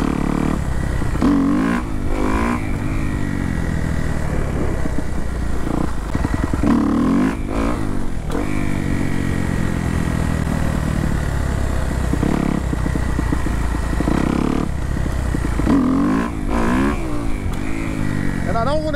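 A motorcycle engine runs steadily during a ride, revving up and easing off in loud, continuous waves, with a voice now and then over it.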